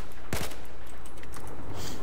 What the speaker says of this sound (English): Let's see if we can make the burst any tighter.